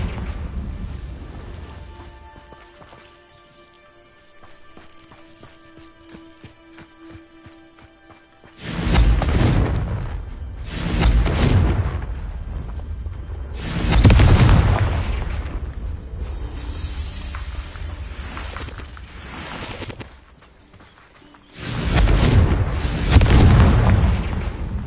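Confringo fire spells cast in Hogwarts Legacy burst into a series of loud, heavy booming explosions, four big blasts in quick succession after a quieter stretch of low rumbling game ambience.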